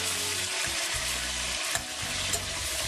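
Onions and tomatoes sizzle and fry steadily in a pan, a dense hiss broken by a couple of soft stirring knocks, close and continuous with no talk.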